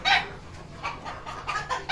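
Several hens let out of their coop cluck in short, uneven bursts close by, with brief pauses between calls and a faint yard hush underneath.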